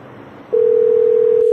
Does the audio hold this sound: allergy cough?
no